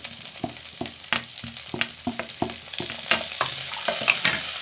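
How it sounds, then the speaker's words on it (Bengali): Peas, cauliflower and beans fry in a pan for vegetable fried rice, a close sizzle broken by a rhythmic run of spatula scrapes and knocks, roughly two every second. "এরপর আমি এর মধ্যে দিয়ে দিচ্ছি মটরশুঁটি, আর দিয়ে দিচ্ছি ফুলকপি আর বিনসগুলো।"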